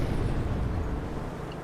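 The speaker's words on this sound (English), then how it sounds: "Oh, large explosion going on here at the back of the Hellfirefly" Large explosion at the back of a Hellfirefly aircraft during a video game battle, heard as a loud, sustained low rumbling blast that fills the whole moment and fades slightly, with no talking over it.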